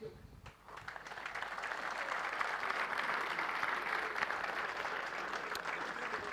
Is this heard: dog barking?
no